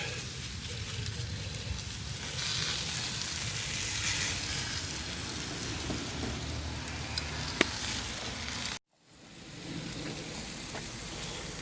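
Meat sizzling on a cowboy grill, a loud continuous crackling hiss that holds steady for most of the stretch, briefly cuts out, then resumes.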